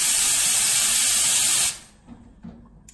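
The steam wand on a Conti Compact espresso machine lets out a loud, close, forceful purge hiss that cuts off abruptly partway through, leaving faint knocks and room noise.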